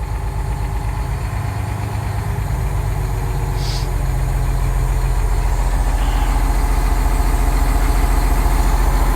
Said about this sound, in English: Sounds like a Cummins to me.